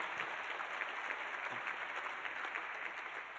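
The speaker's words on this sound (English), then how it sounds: "that does deserve applause" Audience applause at a breakfast event, a soft, steady wash of clapping heard from a distance, with no talk over it.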